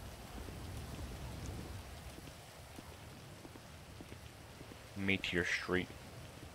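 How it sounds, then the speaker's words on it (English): Steady rain falls in GTA 5 roleplay, a soft constant hiss that fades slightly before a voice cuts in near the end. "Let the rain die down."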